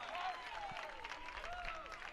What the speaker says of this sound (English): he draws some well-deserved praise from the Tritons crowd